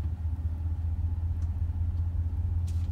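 A John Deere 8530 tractor engine rumbles steadily nearby, a deep, even low-pitched drone with faint intermittent background clicks and no voices.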